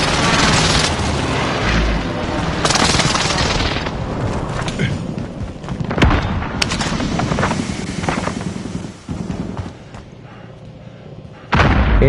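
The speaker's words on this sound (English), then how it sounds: "Allied precision airstrike incoming." Loud booming explosions from a precision airstrike in a shooter video game roll out one after another, with gunfire and heavy thuds mixed in throughout a dense, chaotic battle soundscape.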